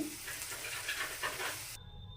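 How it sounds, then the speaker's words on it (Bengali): Onions fry in a pan until reddish-brown, giving a close, steady crackling sizzle that stops abruptly near the end, with no voices. "পেঁয়াজটা লাল লাল করে ভেজে নেব"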